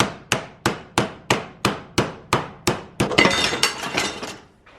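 Sheet metal for a body rust repair on an HJ47 is hammered over a clamped 25 by 25 bar, about ten evenly spaced sharp metallic strikes close by, then a quick burst of rattling blows at the end.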